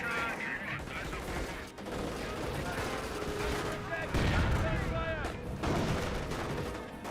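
A tank's main gun fires in the World War II strategy game Company of Heroes, with sharp booms and battle gunfire layered over a busy combat soundscape and a voice talking over it.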